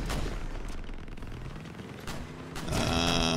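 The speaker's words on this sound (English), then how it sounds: "We are getting cannoned." Cannon fire hitting a Torero Cyclone half-track vehicle in Crossout, with heavy booming impacts and a loud engine rumble throughout, a sharp blast near the start and another louder hit toward the end.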